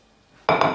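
Eggs drop into a hot pan with a sudden loud sizzle and a clink of cookware after a quiet moment, and the frying then continues close by.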